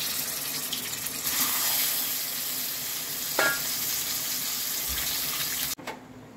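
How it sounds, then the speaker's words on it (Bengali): A fish head coated in salt and turmeric sizzles in hot oil in a wok, a steady crackling fry with a few sharper spits and a brief clatter near the end, no voices. "মাছের মাথাটা নুন হলুদ মাখিয়ে নিয়ে তেলে"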